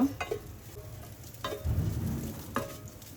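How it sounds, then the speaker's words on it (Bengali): Dough frying in a frying pan with very little oil, a faint, quiet sizzle broken by a few sharp scraping stirs at irregular intervals, close to the pan. "তো এটাকে ভালো মতো ভেজে নামিয়ে নিব"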